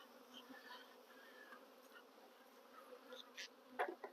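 Honeybees buzz in an opened hive during spring colony checks, a dense close drone with individual bees zipping past near the microphone and brief louder flybys toward the end, no talking.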